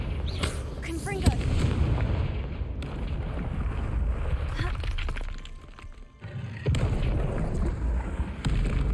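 Confringo blasting spells go off repeatedly in Hogwarts Legacy, a run of loud booming explosions that fill most of the stretch, dropping briefly before another heavy burst.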